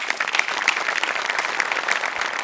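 A studio audience at a Marathi comedy show claps, a dense and sustained round of applause that stays loud and even throughout without speech over it.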